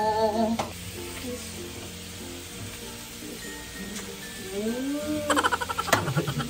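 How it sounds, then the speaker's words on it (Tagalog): Sliced chayote sautés in a frying pan with a steady close sizzle and crackle, occasional utensil clinks and stirring, and a voice talking briefly near the end. "nagluluto niya ako sayote. Ginisang sayote."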